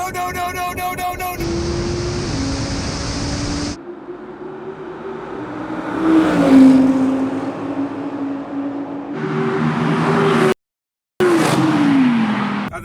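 Two 2020 Audis, an RS7 and a rear-wheel-drive R8, roar through a drag race, engines revving hard and rising through gears with a loud tire squeal and a short dropout near the end.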